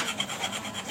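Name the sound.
metal file rasping to smooth an edge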